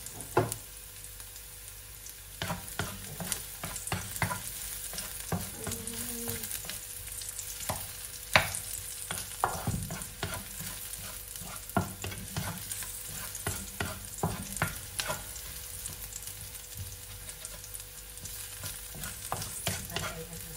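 Shrimp and garlic frying in a pan for sautéed bok choy, with a steady broad sizzle and repeated stirring and scraping clatter throughout, no talking.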